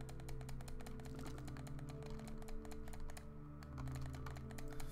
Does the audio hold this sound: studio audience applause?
no